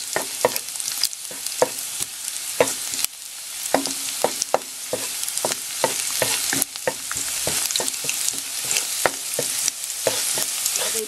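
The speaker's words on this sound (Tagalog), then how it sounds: "pabayaan natin mag-brown itong garlic" Garlic sizzles and browns in a hot pan, a continuous crackling fry broken by frequent sharp scrapes and taps of a spatula stirring against the pan.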